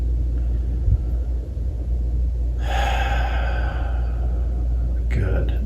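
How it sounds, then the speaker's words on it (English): A slow, deep breath drawn in and let out during a guided belly breathing exercise, a long airy rush in the middle followed by a shorter breath near the end, set against a steady low rumble. "So we're going to start off, just take a couple breaths"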